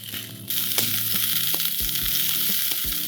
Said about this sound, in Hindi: ब्रोकोली को हम अच्छे से सौते कर लेंगे।